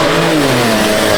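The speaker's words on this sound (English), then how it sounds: "Turbo noises are the coolest thing in the world." A turbocharged 600 hp BMW accelerates hard, its engine roaring loud and close with a rising tone over a short burst.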